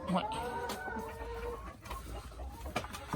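Hens cluck and murmur nearby while laying eggs, with short repeated calls and soft squawks over a quiet farmyard background.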